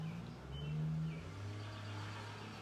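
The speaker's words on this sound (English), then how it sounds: "And a car driving by." A car drives by outside an open window, a faint low engine hum that swells and fades, with birds chirping softly in the background.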